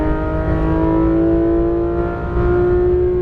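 A Porsche GT3 RS 991 on a racetrack, its engine holding a loud, steady, high-revving tonal howl heard from inside the car, briefly dipping near the middle, with no talk.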